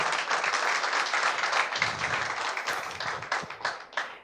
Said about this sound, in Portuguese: Uma salva de palmas para o Dr. Douglas